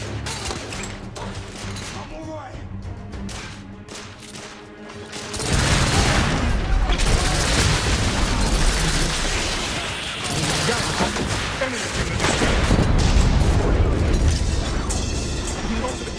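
Heavy battle din from The Order 1886: sustained gunfire and booming explosions roar loudly and continuously after a quieter opening stretch, with voices shouting amid the chaos.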